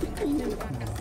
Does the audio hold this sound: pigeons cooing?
yes